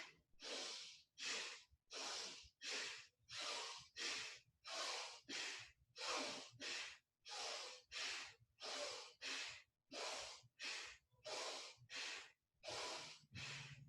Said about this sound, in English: Inhaling forcefully through the nostrils. Exhaling forcefully as the belly pulls in on the exhale.